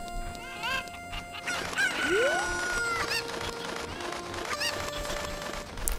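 Chickens cluck and squawk in Zelda Ocarina of Time, a string of synthetic bird calls and bursts with tonal game sound effects between them, a rising squawk near the middle.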